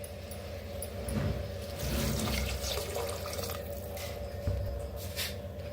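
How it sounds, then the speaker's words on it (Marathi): Water pours steadily from a vessel into a cooking pot of roasted spices for masala rice, a close, continuous splashing gush lasting several seconds with no talk. "त्याच्यात ओतूया पाणी"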